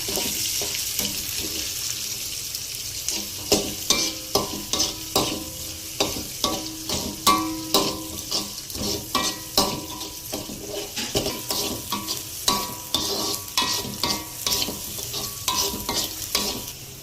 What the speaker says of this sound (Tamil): ஒரு பெரிய வெங்காயம் மீடியம் சைஸ். இப்போ நல்லா வதக்கிக்கலாம்.